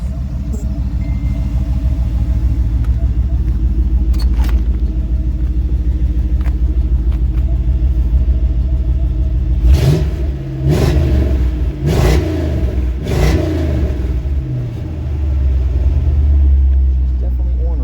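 A 1987 GMC Sierra Classic squarebody pickup without an LS swap idles with a loud, steady rumble, then revs several times in quick bursts before settling back. Someone speaks over the engine.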